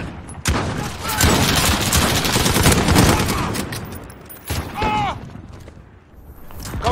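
Call of Duty: Modern Warfare gunfire crackles in dense, rapid bursts, loud and close, pausing briefly before another volley, with game effects and a short voice underneath.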